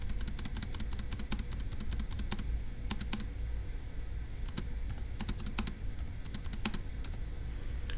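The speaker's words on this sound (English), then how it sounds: "So let's go ahead and type that up." Typing on a computer keyboard, with rapid, close keystroke clicks running in uneven bursts over a steady low background hum, no one speaking.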